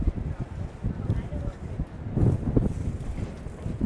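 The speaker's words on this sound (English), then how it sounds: "Ooh, it's windy." Wind buffets the microphone in low, rumbling gusts on a street in Chicago's Wrigleyville and Lakeview area, strongest around the middle, with no one speaking.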